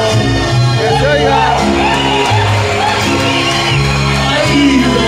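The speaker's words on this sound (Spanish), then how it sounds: "¡Aplauso! ¡Que se oiga!" Restaurant crowd at a Mexican eatery whooping and shouting in a loud, continuous wall of cheering voices, with steady low music running underneath throughout.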